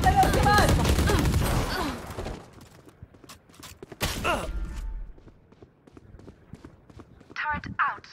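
Bursts of gunfire in the tactical shooter Valorant crackle amid game sounds, with rapid shots and impacts mixed under excited players talking over voice chat.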